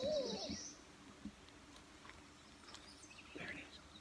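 An owl hoots in the woods, a couple of soft, distant calls standing out faintly against a quiet forest background.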